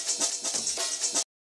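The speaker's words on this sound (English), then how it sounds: "Like an amen break from some old jungle thing" A high-end processed amen break drum loop, an old jungle-style break, plays as a short, busy run of crisp hits with bright, hissy cymbals and light kicks before cutting off abruptly.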